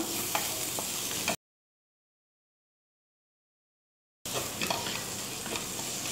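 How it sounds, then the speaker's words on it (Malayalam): Ingredients for kothu porotta sauté in a pan with a steady sizzle and light stirring scrapes. The sound cuts out completely for about three seconds, then returns; no talking. "നന്നായിട്ട് സോട്ട് ചെയ്തെടുക്കണം"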